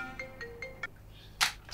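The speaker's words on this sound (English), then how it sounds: "Oh, my phone is ringing." A mobile phone ringtone plays four short, evenly spaced electronic tones, close and clear, followed by a sharp burst of noise, with no talking.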